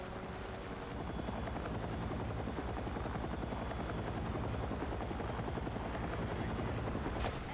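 A helicopter in the video game Battlefield 6 produces a loud, steady rotor thump with dense engine buzz, close and continuous for the whole stretch, with no talk over it.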